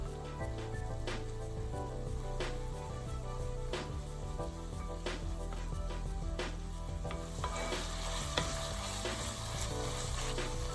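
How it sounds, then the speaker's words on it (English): Browned meat frying with tomato paste being stirred in, in a pan: continuous crackling sizzle broken by repeated utensil scrapes and taps, close and moderately loud, with no speech. "Once the meat has changed its color, add the tomato paste if using and mix it well"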